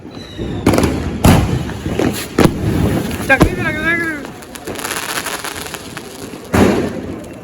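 A chakri, a spinning ground firecracker, whirls at night on a rooftop during Diwali, with sharp crackling bursts, thumps and a rising whistle, mixed with nearby voices chatting.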